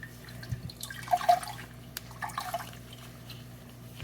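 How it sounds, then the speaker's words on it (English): Water drains and drips from a felted crocheted bag as it is squeezed by hand, soft irregular trickles and splashes close by, with no talking. "I'm going to drain the water, squeeze the water from the bag"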